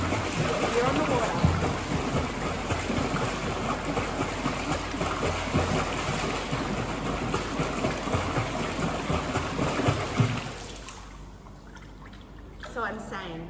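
Continuous splashing and churning water from a swimmer's fast freestyle kicking, steady for about ten seconds before it stops and the water quiets.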